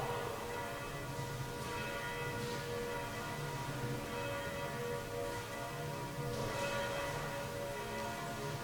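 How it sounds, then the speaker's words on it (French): Church bells of the Sainte-Martine church ringing during the Holy Saturday Easter Vigil, a continuous dense wash of overlapping peals heard at a distance, steady and moderately faint throughout. "À la suite des cloches, nous chantons la gloire de Dieu."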